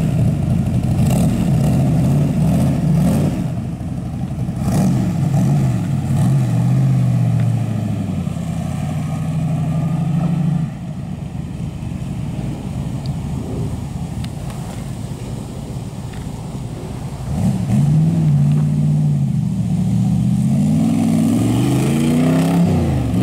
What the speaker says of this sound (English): All right, we'll do a little drive-by with it.